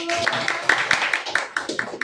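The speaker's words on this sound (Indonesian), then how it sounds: "tepuk tangan dulu" A class of Indonesian fifth-grade elementary pupils claps hands in a steady rhythmic beat, about ten sharp claps in quick succession, with voices mixed in underneath.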